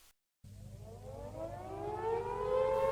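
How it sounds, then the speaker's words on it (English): An air raid siren sounding the all-clear winds up and holds a rising, steady tone, loud and continuous, after a brief silence. "the air raid siren blew the all-clear sound to let them know that the area was safe"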